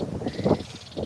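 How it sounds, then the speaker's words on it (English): Birds calling outside on a quiet dead-end street, a steady chirping series of moderate, fairly close calls with a few lower croaking notes in between. "You can hear the birds out here."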